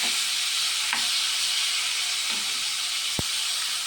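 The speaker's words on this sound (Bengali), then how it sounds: "মাছগুলো ভাজা হয়ে গেছে" Kuche fish (eel) sizzles steadily as it fries in a pan in a home kitchen, a continuous close hiss with a few faint utensil clicks and a sharp tap near the end.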